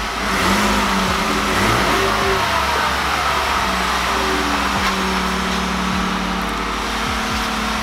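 A car engine revved while parked for a factory radio test, the rev sounding as a loud, broad rumble with engine tones rising and falling over several seconds, close and steady with no talk.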